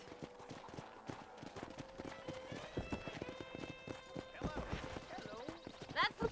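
Horse hooves in the Red Dead Redemption video game beat out a regular clip-clop gait beneath talk and a soft musical tone, ending with a short whinny.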